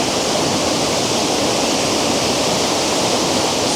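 Lower Campsie Falls pours in a steady, dense rush of falling water, loud and close, an unbroken broadband roar with no voices over it.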